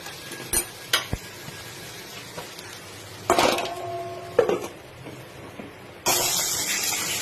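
A lid clanks down onto a pot of simmering Bihari chicken, with a few sharp metallic taps and ringing knocks over a low sizzle, then a broader hiss of steam near the end.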